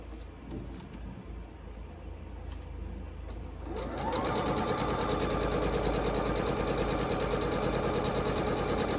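A domestic sewing machine stitches quilt pieces corner to corner. After a few quiet seconds of faint rustling, a loud, rapid, continuous mechanical whirring and ticking starts and runs steadily to the end.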